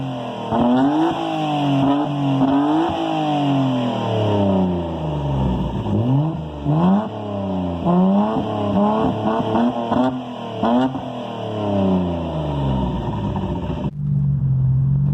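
A loud R33 Nissan Skyline GT-R engine revs up and down through the gears with a raspy exhaust note through a downpipe, decat and Kakimoto cat-back, heard close from inside the car in traffic.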